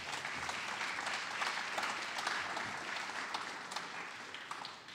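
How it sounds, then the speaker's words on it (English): An audience at a speaker series event applauds for the school, a sustained crowd of clapping at moderate distance that keeps going steadily through the whole stretch. "I think the school actually deserves a round of applause"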